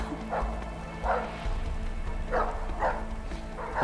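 Several short dog barks in the video game A Way Out, evenly spaced, ring out over a steady low background hum.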